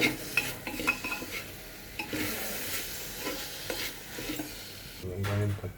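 Onions frying with ginger and garlic spoon-stirred in a pan: soft steady sizzle under repeated scraping and clinking strokes, close up, ending in a louder burst of stirring.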